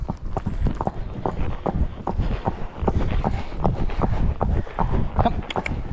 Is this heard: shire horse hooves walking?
yes